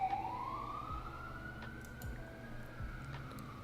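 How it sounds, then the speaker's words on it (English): An ambulance siren passes through a residential neighborhood, one long rising wail that climbs and holds, moderately distant, over steady background noise. "That's an ambulance."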